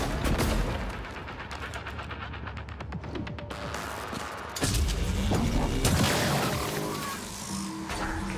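A loud explosion in the video game Prey bursts over rapid crackling, then rumbles and fades. A second heavy blast follows close up, with a rough, roaring texture under sparse speech.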